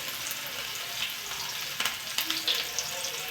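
Onion and green chilli sizzle steadily in a pan over cumin and mustard seeds, a close hiss with scattered stirring clicks and spatters and no talking.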